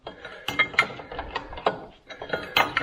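Ratcheting clicks from tightening a lock nut on a power buggy, coming in short close bursts of mechanical ticks with brief pauses between them.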